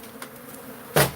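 Killer bees from an old hive inside a cupboard buzz with a faint steady drone, broken near the end by a sharp, loud close burst of noise.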